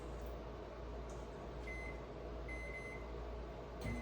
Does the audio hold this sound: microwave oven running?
yes